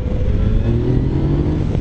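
A Yamaha Tracer 900 motorcycle engine roars close by, its pitch climbing as the throttle opens and the bike accelerates hard.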